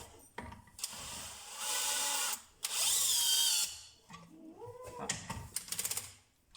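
A DeWalt DCD996N 18V cordless drill whirs in two sustained bursts, driving a 70 mm bolt screw, followed by shorter revving pulses and clicks of the tool.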